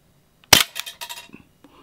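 A single sharp gunshot-like crack from an MGC M1911A1 gas blowback airsoft pistol, followed by a short rattle of mechanical clicks as the slide cycles; close and loud.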